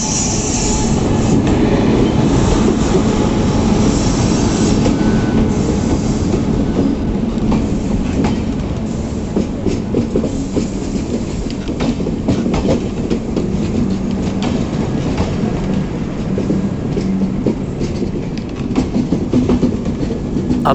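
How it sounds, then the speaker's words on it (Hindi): A weekly superfast express train from Yesvantpur to Gorakhpur passes near Daliganj Junction at low speed, with a loud, steady rumble of wagons and wheels on rail, continuous and close, and no voices. "और अब सामने से आ रही है यशवंतपुर से चलकर गोरखपुर जाने वाली हमारी weekly superfast express Daliganj junction की दिशा से"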